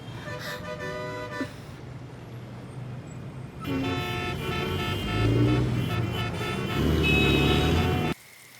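Rain-soaked city traffic rumbles steadily while car horns blare in long, repeated tonal honks, several overlapping near the end before cutting off abruptly.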